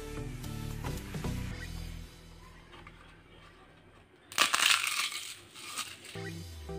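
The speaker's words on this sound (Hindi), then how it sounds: "ये देखिए, हल्का सा हाथ लगाते ही ये बिल्कुल टूट जा रहे हैं और मैश हो जा रहे हैं।" Crispy homemade semolina (suji) papad snaps and crumbles under light hand pressure, giving a sharp burst of crackling crunches close by. Quieter handling and faint speech-like sounds come first.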